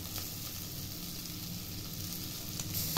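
Crushed green peas sizzle and fry steadily in a pan for a vegetable keema curry, a close, continuous crackle with no talking.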